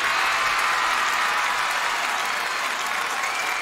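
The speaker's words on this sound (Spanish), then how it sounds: "¡Todos me están aplaudiendo!" A crowd applauds a dancer at a school dance battle, steady dense clapping that fills the whole stretch at an even level.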